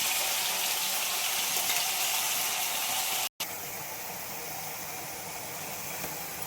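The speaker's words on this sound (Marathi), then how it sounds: "मसाला भाजून घेतो चांगला" Masala spices and cumin roasting in a home kitchen pan, a steady broadband sizzle throughout, cut by a momentary dropout midway before resuming at the same level.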